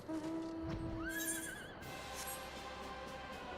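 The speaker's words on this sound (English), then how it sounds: "Dramatic horse." A horse neighs in the video game Final Fantasy 14, a single dramatic whinny rising then trailing off, fairly faint, with game ambience behind and no talk.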